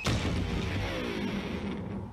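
An electric guitar hurled off a 20-story building smashes apart, a loud broad crash that rings on with rattling, splintering debris for about two seconds.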